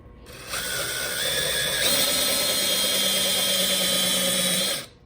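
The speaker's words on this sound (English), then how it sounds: "So I drilled 2 holes" A power drill whirs steadily at high speed for several seconds, boring pocket holes with a Kreg pocket hole jig, starting and stopping abruptly, close and loud.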